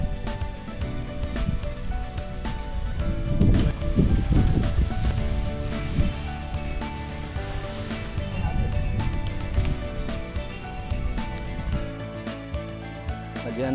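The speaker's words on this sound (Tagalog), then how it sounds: "Medyo malakas ang hangin." Strong wind roars steadily at an outdoor campsite, buffeting and rumbling with gusty surges, mixed with a wash like distant surf or rustling.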